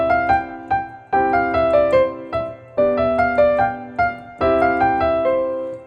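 A piano plays Czerny's Op. 599 No. 12 with a bright right-hand melody of quick notes standing out over softer left-hand accompaniment, in several close, lively phrases without any talking.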